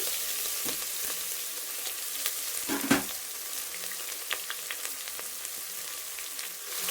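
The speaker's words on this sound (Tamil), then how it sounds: "கடுகு, சீரகம், கடலைப்பருப்பு, உளுத்தம்பருப்பு, மீடியம் சைஸு 2 வெங்காயம் கட் பண்ணி அதையும் சேர்த்துக்கிறேங்க" Mustard seeds, cumin, chana dal, urad dal and two chopped medium onions frying in hot oil, a steady close sizzle with scattered pops and a louder crackling burst partway through, no voices.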